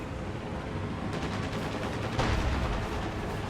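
A StuG assault gun fires in a World War II strategy game, with sharp cannon reports and rattling fire over a dense, loud battle din that swells slightly midway.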